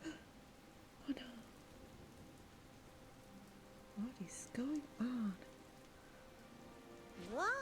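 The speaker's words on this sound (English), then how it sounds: "It's raining cats and dogs." Heavy rain falling in the AFK Journey video game, a steady hiss running throughout, with a voice speaking briefly over it and some tonal game sounds chirping in between.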